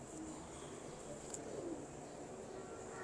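Dumchir and Nyono breed pigeons cooing softly in a loft, low murmuring coos over a steady background hiss, continuous and fairly faint.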